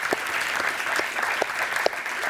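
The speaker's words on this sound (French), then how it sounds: "que vous pouvez applaudir" Steady applause from a conference audience greeting panel guests, dense and continuous, with a few sharper individual claps standing out.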